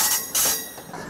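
A heritage train on a short line past horse farms rolls along its track with a steady rumble and a squeal of wheels on the rails. The sound is close and fills the clip, with no voices over it.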